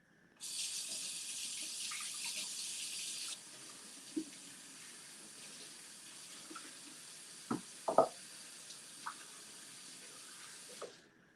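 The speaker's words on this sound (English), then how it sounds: "I'm also going to rinse the lid." A blender lid is rinsed under a running kitchen tap, a steady hiss of water pouring into the sink with a few clinks and knocks of the plastic lid against the flow, close and continuous, no talking.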